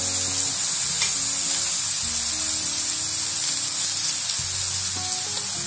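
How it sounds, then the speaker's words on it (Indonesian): Food fries in a pan of hot oil with a loud, dense, constant sizzle, joined by low, faint background tones and no talking. "Kita goreng sampai habis"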